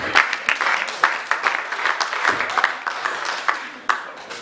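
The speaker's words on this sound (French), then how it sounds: "On acclame le Seigneur" A church congregation applauds in worship, a dense, lively burst of many hands clapping with uneven bright slaps, close and loud.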